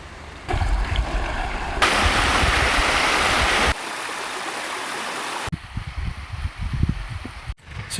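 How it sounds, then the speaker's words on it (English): Rushing water from a large backcountry waterfall system on Vancouver Island near Jewel Lake, a steady broadband roar that swells louder midway and then drops back to closer splashing and trickling. "it's crossing this mega waterfall system here"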